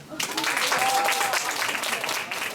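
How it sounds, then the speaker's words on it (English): Audience applause for sophomore students at a school English speech contest, starting abruptly and holding a steady wash of clapping for a couple of seconds. "So give them a round of applause."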